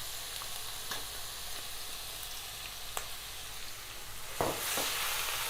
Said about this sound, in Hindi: ऑयल गर्म हो गया है, इसमें लहसुन अदरक और हरी मिर्च का पेस्ट डालेंगे